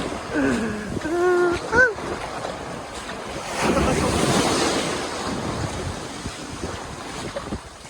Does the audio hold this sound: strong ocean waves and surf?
yes